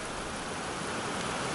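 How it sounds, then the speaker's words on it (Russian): Steady, dense rain hiss in a village, a continuous even wash of falling water with no other sounds. "Влупил дождины у нас."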